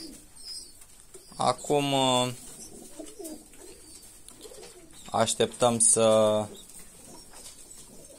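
Pigeons in a loft of more than a hundred birds give two clear bursts of deep, rolling cooing, close and loud, with quiet rustling and someone speaking Romanian briefly between them.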